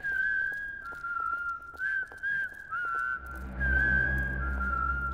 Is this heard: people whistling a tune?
yes